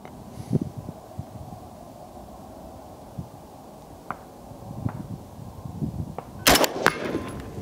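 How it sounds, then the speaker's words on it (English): Rifle shots from a Sabre MK12 at an outdoor range, a few sharp distant cracks spread out, then one loud close blast near the end, over steady wind and rustle. "now I'm going to shoot between the 2 bolts"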